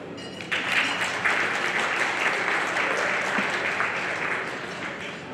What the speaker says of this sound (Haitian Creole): Et je vous demande de vous applaudir.